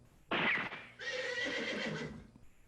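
A horse neigh sound effect played on an electronic keyboard: a loud, shrill whinny that breaks off, then a longer quavering neigh follows, close and clear.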